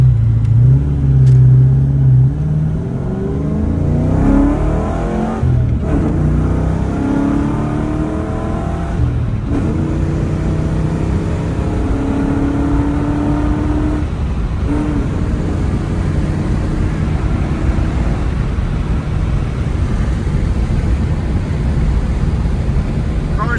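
A 1994 Ford Mustang GT with a 5.0L HO V8 accelerates hard on the road, its deep engine note rising through several gear changes with brief breaks between shifts. The drone is steady and prominent throughout.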